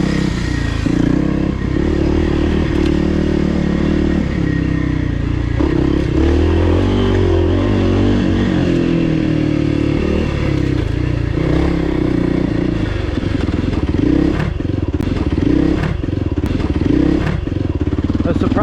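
A 2024 Kawasaki KLX300R dirt bike rides the HMT Tornado singletrack, its engine droning loud and close throughout, with rising and falling revs, rattling clatter and occasional thumps from the rough trail.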